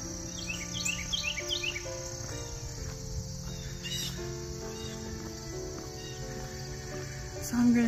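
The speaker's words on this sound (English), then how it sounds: "I hope you can hear that bird." A bird sings in the morning, a cluster of thin high chirps near the start, then a steady crickety insect drone carries on alone, soft and distant.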